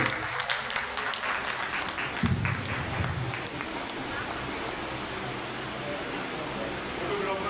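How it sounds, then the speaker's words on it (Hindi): An audience at a Sindhi community gathering in Delhi for a partition remembrance day claps continuously, a dense, loud wash of many hands that stays steady throughout, with a brief low thump partway through. "एक बार तालियां जरूर बजा दीजिए"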